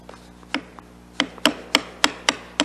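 Mallet tapping a narrow chisel to remove a wedge of wood from a hand-cut dovetail, a series of sharp, close knocks coming in an uneven rhythm.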